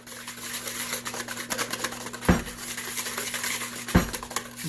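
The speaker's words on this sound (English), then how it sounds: "we're going to whisk for another 30 seconds" Cookie dough is whisked in a bowl, a quick busy patter of scraping and tapping strokes, with a couple of sharper knocks against the rim.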